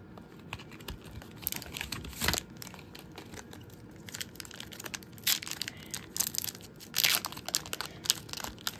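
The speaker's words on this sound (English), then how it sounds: "we're going to be opening up some of the new Paradox Rift cards and an Obsidian Flames" Pokémon card booster packs from Paradox Rift and Obsidian Flames are torn open, with crisp foil crinkling and tearing in irregular bursts, some louder rips up close and fiddly handling between them.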